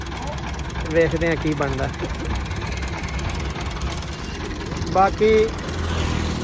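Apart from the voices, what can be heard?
Ford 4600 tractor engine pulling sugarcane trailer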